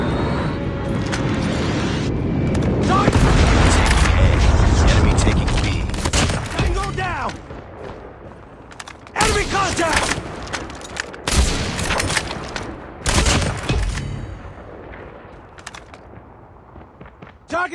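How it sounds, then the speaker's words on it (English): Call of Duty Mobile battle audio with a loud, sustained roar of airstrike explosions and heavy blasts, then bursts of gunfire and sharp booms, while game announcer voice lines sound over the action. "Friendly airstrike incoming."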